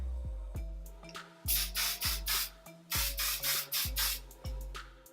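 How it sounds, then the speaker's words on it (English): Hairspray hisses from an aerosol can onto a face in short repeated bursts, about ten quick close sprays in a rhythmic series with brief pauses between them. "All right, let's set the face with hairspray."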